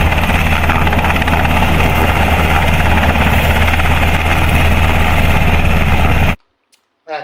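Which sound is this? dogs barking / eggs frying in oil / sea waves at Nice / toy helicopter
toy helicopter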